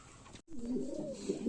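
A pigeon coos close by in a soft, rolling warble after a brief break, the sound fairly quiet but clear.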